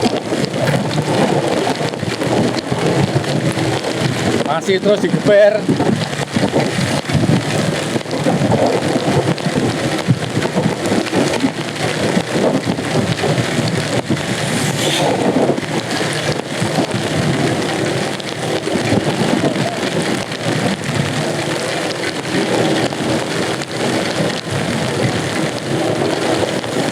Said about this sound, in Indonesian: dengan cuaca hujan sangat lebat.